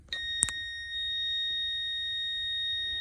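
A multimeter in continuity mode gives a steady, clear electronic beep when its test leads touch together. The tone starts after a brief click and holds evenly to the end.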